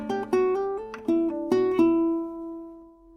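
Guitar playing the next section of a song: a short, slow passage of plucked and rolled chords and single notes, clean and close, ending on one chord left ringing and fading out, with no talking.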